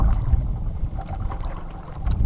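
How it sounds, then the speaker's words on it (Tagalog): Small fishing boat's engine running down after switch-off at sea, a low uneven rumbling chug with wind and water noise over a couple of seconds, loud and close. "Tagal mamatay ng ating makina."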